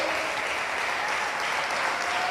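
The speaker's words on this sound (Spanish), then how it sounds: "Dele más fuerte las palmas al Dios Todopoderoso" A church congregation claps hard for the Almighty God, a dense, steady wall of applause from a large crowd, continuous and fairly loud.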